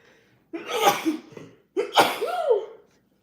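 Two sharp, explosive bursts close to the microphone, each a sudden blast of breath, about a second apart, like a pair of sneezes.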